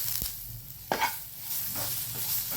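Curry leaves fry in hot oil with a soft, close crackle and sizzle. A couple of faint spoon clinks and stirring scrapes come through, with no talk.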